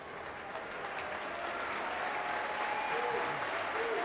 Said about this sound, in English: the South Stand applaud young Ben Jones-Bishop